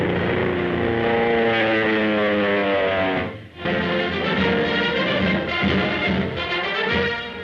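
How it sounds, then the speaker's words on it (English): Aircraft engine of a record-breaking motor installation running steadily through a final test flight and snap roll, a loud continuous drone with harmonic whine, briefly dipping midway before resuming at full strength. "Final test of the record-breaking motor installation."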